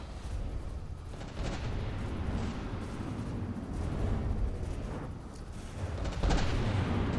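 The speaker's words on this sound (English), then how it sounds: "Got some explosions going on." Explosions roll through a naval battleship video game tournament match: heavy booms and artillery-like blasts stack into a continuous rumbling barrage, with sharper bursts near the end and no talking.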